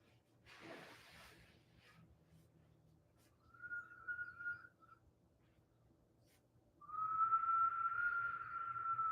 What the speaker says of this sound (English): Inhale nose, exhale whistle.